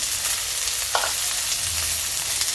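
Grated garlic and spices frying in a pan, a constant close sizzle with a brief scrape of the spoon as it is stirred, no talking.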